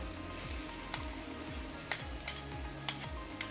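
Halibut stir-fried with onion and ginger in a pan makes a continuous moderate sizzle, marked by a handful of sharp spatula clicks and a low repeating whoosh underneath, with no voices.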